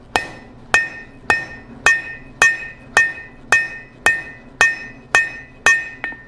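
A cross-peen hammer strikes a bar on the horn of an anvil, eleven bright ringing blows at an even pace of about two per second, each with a short metallic ring-out, loud and close with no talk.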